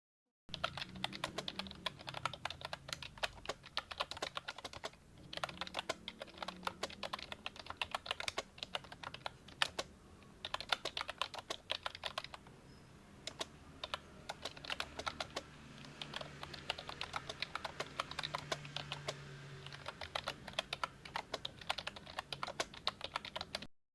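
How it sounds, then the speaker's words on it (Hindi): A computer keyboard clatters with quick, uneven keystrokes as a Python program is typed, close and quiet, in steady bursts with brief pauses and a faint low hum underneath. "मैं जल्दी से इन सब के लिए एक एक प्रोग्राम लिख के दिखाता हूँ"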